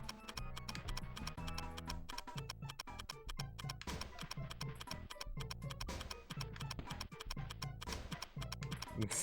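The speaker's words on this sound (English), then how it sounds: "This timer sound sucks." A steady, rapid ticking timer from the video game Gex 3: Deep Cover Gecko keeps an even, insistent beat alongside a busy musical game soundtrack, with no talking.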